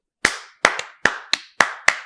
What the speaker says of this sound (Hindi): ये हसन के लिए तालियां।